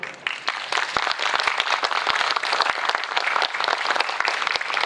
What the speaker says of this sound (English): let's give our judges and our contestants a round of applause for their hard work